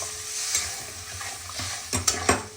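Masala for a spicy mourola fish chorchori being sautéed in a pan after a splash of water: soft sizzling under slow stirring, ending in a few sharp spatula scrapes and clinks.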